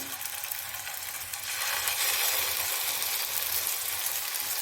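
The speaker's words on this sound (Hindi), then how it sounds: "अब इसको ऐसा ही रखेंगे, इसको धक्का नहीं लगाएंगे, अच्छे से इसको फ्राई होने देंगे एक साइड से" Chicken seekh kebabs fry in hot oil in a large pan, giving a dense, continuous sizzle that grows louder after a moment and stays close and even, with no talk.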